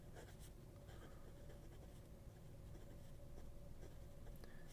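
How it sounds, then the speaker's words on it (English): A vacuum-filling fountain pen with a fine nib scratches steadily across paper, a soft continuous rasp of close strokes with a few small taps, faint but alone. "It's got a fine nib. That is very smooth."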